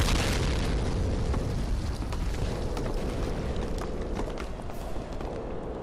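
A rocket explosion in the World War II strategy game Company of Heroes booms loud and close, leaving a dense, sustained roar of blast and battle noise with no talking.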